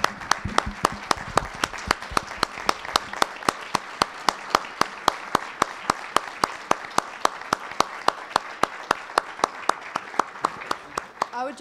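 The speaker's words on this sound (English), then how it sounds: "can we please get another round of applause for our panelists?" Steady, evenly timed clapping from an audience at a student panel discussion, sharp claps repeating several times a second without pause, like a crowd clapping in unison.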